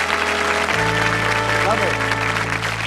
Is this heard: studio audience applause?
yes